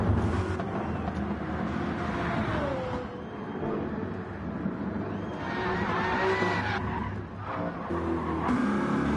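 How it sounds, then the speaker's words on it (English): Race cars lapping a circuit in Barcelona during a qualifying session, engines droning loudly and continuously with tire squeal and passing surges throughout. "We have cars on track though"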